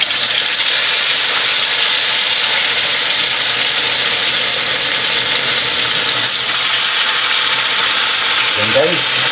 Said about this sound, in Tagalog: Dahil mainit yung mantika na guys, ipa-fried na natin ang ating mayamaya.